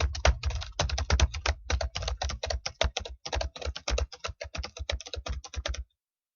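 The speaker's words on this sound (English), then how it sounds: "I typed in a bunch of stuff that's going to be in my first paragraph" Rapid typing on a computer keyboard while formatting a document, a steady stream of close, crisp key clicks in quick bursts with brief pauses, then stopping near the end.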